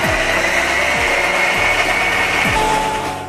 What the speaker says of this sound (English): make mango pulp, grind it and make a paste